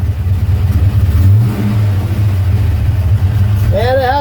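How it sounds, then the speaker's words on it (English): A 1967 GMC C1500 pickup engine runs steadily at close range with a low rumble and a leaking exhaust, heard from inside the cab without carpet or shifter boot; a voice speaks near the end. "And it has an exhaust leak I can hear now."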